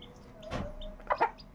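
A village hen with her five young chicks gives a few brief clucks, with two or three short, close calls standing out over a quiet background.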